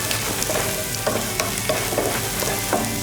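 Onions sautéing to golden brown in a pan, a loud close sizzle with repeated scraping stir strokes at an uneven rhythm.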